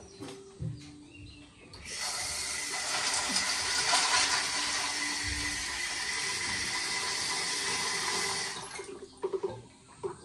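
Water pours steadily into a pot for boiling macaroni pasta, a continuous hissing splash lasting several seconds before stopping, with small clinks and knocks before and after.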